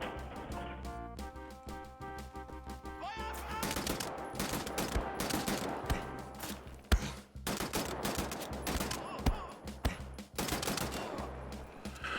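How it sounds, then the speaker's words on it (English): Assault rifle fire in the shooter Wolfenstein The New Order: rapid bursts of automatic gunfire, loud and dense, with short pauses between volleys over a constant game soundscape. "I found it as a machine gun. Assault rifle."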